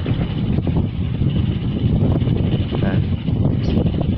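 Strong wind buffets a small lightweight wind turbine charging a battery, a loud continuous rushing roar with gusty fluctuations close to the microphone.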